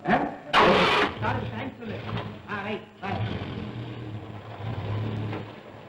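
A car engine cranks and starts in a Tamil comedy film scene, then settles into a mid-pitched running drone, with people talking over it throughout.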